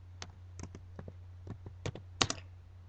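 Keys tapped on a computer keyboard while a shutdown command is entered, about a dozen crisp irregular clicks up close in a quiet room, with one slightly firmer double strike near the end.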